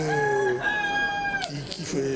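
A rooster crows loudly and close at a poultry show, one long drawn-out call followed by short clucks, with faint talk in the background.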